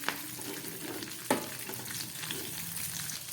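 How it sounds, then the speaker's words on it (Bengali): Green chilies fry lightly in hot oil in a pan, giving a low, steady sizzle with one sharp utensil knock partway through. "লঙ্কাগুলো হালকা ভেজে নিয়েছি।"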